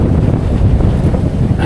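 Strong wind on open water, a loud continuous roar battering the microphone with no pauses, with no voices.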